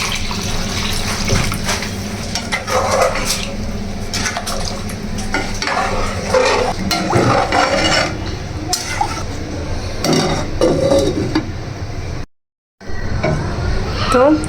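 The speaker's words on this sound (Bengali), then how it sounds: "এখন গরম পানি দিয়ে দিচ্ছি" Khichuri with chicken being stirred in a cooking pot right after hot water is poured in, giving steady scraping and sloshing throughout, with a short silent gap near the end.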